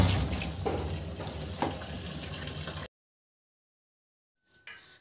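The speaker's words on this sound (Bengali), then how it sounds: "বন্ধুরা, আমি সবজিগুলোকে ধুয়ে নিচ্ছি" Running tap water splashes steadily over potatoes and pumpkin being washed for egg and soya bean khichuri, a close, continuous gush that stops abruptly partway, followed by near silence and a brief faint splash near the end.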